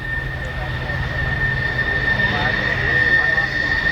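Piston engines of a Lockheed Constellation propeller airliner of the Military Air Transport Service, an early L-749/C-121A, droning steadily and loudly with a constant tonal hum throughout.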